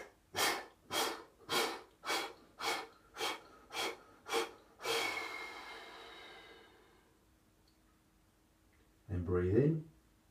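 Series of rhythmic breaths during a chi kung Pilates routine, eight short even puffs followed by one long drawn-out exhale that fades, then a brief voiced sound near the end.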